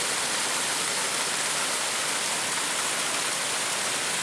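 Constant broadband rush of falling water from a waterfall in Zion canyon, loud and steady at close range, with no voices over it.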